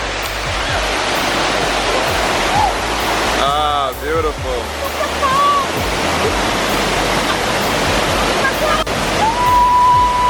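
Dunn's River Falls in Ocho Rios, Jamaica, roars as a loud, steady wash of cascading water from start to finish, with people talking briefly over it and a bird calling faintly.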